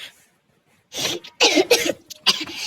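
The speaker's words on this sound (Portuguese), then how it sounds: "Ignora esse tossido de bode." Harsh, raspy coughing from a game sound effect comes in several close, loud bursts after a short silence, with no talk.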